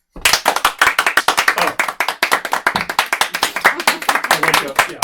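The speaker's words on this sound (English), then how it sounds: "I wake up to the clapping." A group of people claps in quick, sharp, closely spaced strokes that stay loud and fairly rhythmic throughout. Voices may be mixed in, but no words come through clearly.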